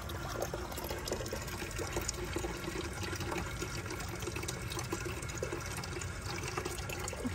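River water pours and splashes steadily onto garden plants for irrigation, a continuous close trickling and gushing with no voices.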